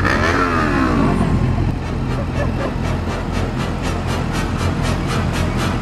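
Several motorcycles, one of them an Indian, rev and idle together at a group ride gathering in Warsaw, a loud steady engine rumble with a rising rev sweep at the start and pulsing exhaust throughout.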